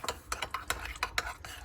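Ingredients for a Cajun Korean butter chicken burrito filling get mixed in a bowl, a quick run of rhythmic wet scraping and soft clacks from a utensil, close and fairly quiet.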